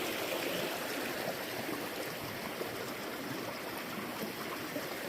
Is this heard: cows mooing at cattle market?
no